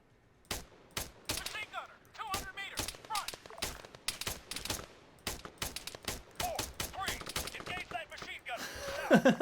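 Gunfire in the military shooter Arma 3: rapid, sharp rifle and machine-gun bursts crack out in irregular volleys, loud and near, with fainter distant shots between them.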